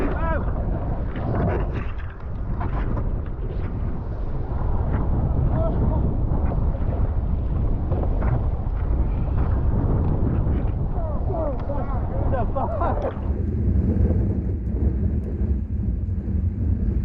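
Strong gusts of around 40 mph buffet the microphone in a heavy, continuous roar while riding across a New Jersey bay, with water rushing and slapping beneath throughout.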